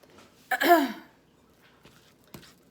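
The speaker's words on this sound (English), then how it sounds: "Excuse me for clearing my throat" A single loud, rough throat clearing up close from a person with a sore throat, followed by quiet and a couple of faint small noises.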